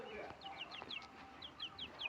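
Ordinary domestic chickens, not fighting birds, clucking in a series of short repeated calls at moderate distance over faint background noise, with brief mutters of nearby voices.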